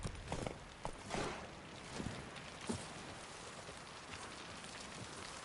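Horse hooves from The Witcher 3 thud in irregular beats over a constant hiss like rain, loud and close.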